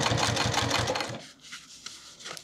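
A sewing machine top-stitches a stiff waterproof canvas pocket, running in a fast, steady close-up whir for about a second before stopping, followed by faint handling noises.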